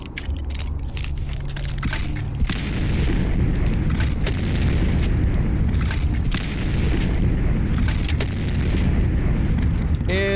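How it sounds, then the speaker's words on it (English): A grenade launcher in the video game Fallout 4 sets off deep, sustained explosive booms that rumble continuously and loudly, with speech mixed in. "Grenade launcher."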